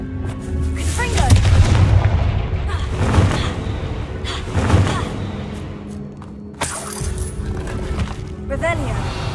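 The Confringo blasting spell explodes in Hogwarts Legacy with repeated booming cracks over a layer of game effects, as a voice talks throughout.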